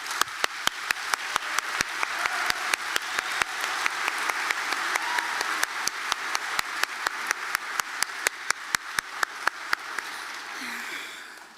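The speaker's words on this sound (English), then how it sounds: "Would you all please join me in applauding our amazing faculty, staff, and our families as they join us here today?" Commencement audience at a Central Penn College graduation applauding faculty, staff and families, a dense, steady wash of many hands clapping with sharp, rhythmic claps standing out near the front, fading out at the end.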